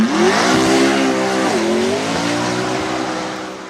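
McLaren P1 GTR track-only racing supercar driving by, its engine loud and close, pitch climbing, dipping sharply mid-pass, then holding a steady roar as it fades slightly.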